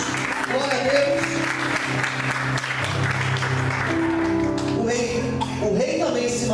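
A church congregation applauds during a Portuguese-language sermon, a steady wash of clapping that holds for several seconds, with sustained voices or music sounding through it.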